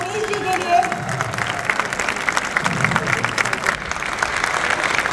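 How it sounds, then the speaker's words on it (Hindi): Audience clapping warmly at an Ayurveda and naturopathy health talk in honor of a guest speaker, a continuous crowded patter of hands with some murmured voices mixed in. "तो जोरदार तालियां हो जाए आचार्य मनीष जी के लिए"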